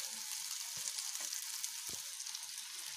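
Stuffed okra (bharwa bhindi) frying in a pan, a steady close hiss of sizzling oil with a faint scrape of stirring now and then, no voices.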